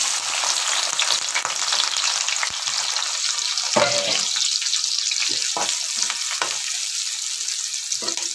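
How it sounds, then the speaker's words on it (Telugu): Onions and green chillies fry in a pan, a steady close sizzle running throughout with a few brief clinks and stirring scrapes on top. "కొంచెం ఆనియన్స్ అండ్ పచ్చిమిర్చి ఈ రెండింటిని ఫ్రై చేసుకుంటున్నాం"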